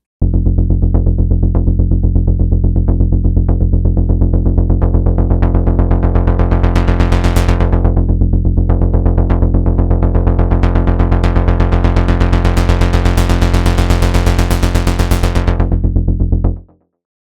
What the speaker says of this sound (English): Bass Kinetic is really good for those rolling bass lines that you can hear in a lot of melodic techno tracks.